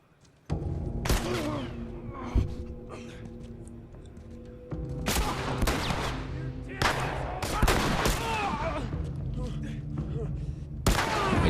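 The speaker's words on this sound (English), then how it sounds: "I'm just gonna let them shoot them all up." Enemy gunfire in The Last of Us Remastered at Tommy's Dam: bursts of rifle and automatic fire with booming impacts, coming in irregular volleys near and far across several seconds, with loud cracks and quieter gaps between.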